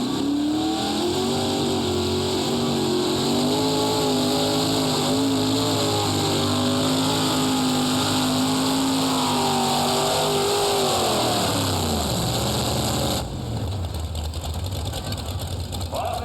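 A modified pulling tractor powered by three naturally aspirated 454 Chevrolet engines running on alcohol roars loud and close at high revs, pitch wavering and then dropping as the RPMs fall away near the end.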